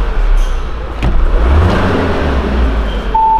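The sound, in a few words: Volkswagen Jetta TSI car engine started and revving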